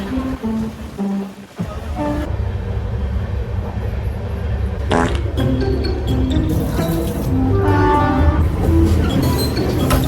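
A train on the way to Bangalore rolls steadily along the tracks, a loud continuous rumble heard from on board with wind noise, a brief rising whine partway through and no talk.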